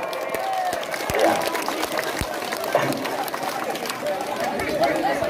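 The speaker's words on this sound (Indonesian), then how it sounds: "sekali lagi tepuk tangan dong untuk ya" Applause from a crowd at an outdoor village welcoming ceremony, scattered clapping mixed with lively chatter and voices around it, at moderate level throughout.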